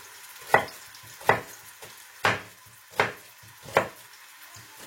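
Chopped onion frying in a pan for a Pakistani-style chickpea pulao, with a soft sizzle beneath regular scraping strokes of a spoon stirring about every second, close and clear with no talking.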